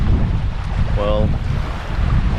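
Strong wind gusting over a boat at sea off a remote Bahamian reef, a steady broadband rush with buffeting against the microphone, plus a faint brief tonal whine in the middle.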